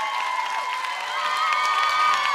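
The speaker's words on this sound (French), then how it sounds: "Applaudissements pour lui, s'il vous plaît." Audience at a private concert for a singer applauds and cheers as a steady, dense wash of clapping with voices mixed in, holding at an even level throughout.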